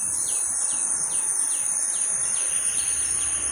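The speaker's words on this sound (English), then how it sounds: "Yeah, birds." Birds sing and chirp in a paddy field in Goa, with repeated short descending calls over a steady high insect drone, fairly close and continuous, no voices.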